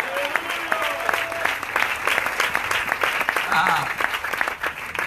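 Congregation clapping at an evangelistic church campaign service, a dense steady applause with a rhythmic beat running throughout, loud and close, with voices mixed in.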